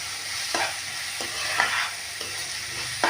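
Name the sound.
stirring roasted masala with chili powder and turmeric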